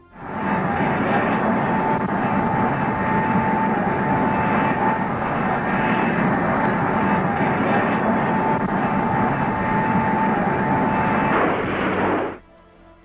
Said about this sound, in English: Historic footage captures the modified B-45's ascent on May 20th, 1955.